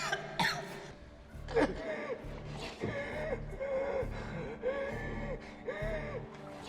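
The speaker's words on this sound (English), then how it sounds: "Stop the coughing. Don't cough too hard now" Repeated harsh coughing and gasping bursts, several in a row, over a steady rhythmic background with music.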